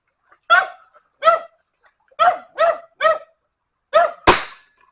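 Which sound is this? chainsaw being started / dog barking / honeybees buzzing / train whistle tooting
dog barking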